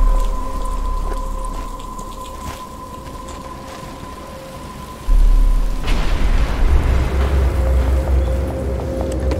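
Rain falls in the video game Batman: Return to Arkham, a soft patter under a low hum that swells into a louder, denser downpour midway, with rumbling low end.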